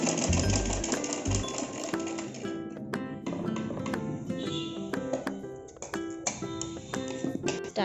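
A sewing machine stitches a seam on an ordinary pant, with rapid clattering bursts of needle strokes broken by short pauses, close and fairly quiet.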